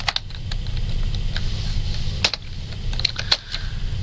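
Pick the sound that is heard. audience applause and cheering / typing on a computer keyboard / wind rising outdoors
typing on a computer keyboard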